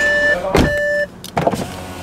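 Electric power windows closing inside an Audi A6 TDI: a steady motor whine runs for about a second and stops with a soft thump, followed by a brief second rustle. The sound is close and clear inside the quiet cabin.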